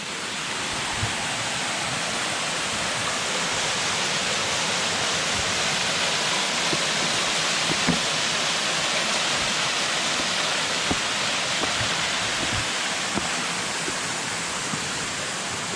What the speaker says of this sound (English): this is like waterfall mecca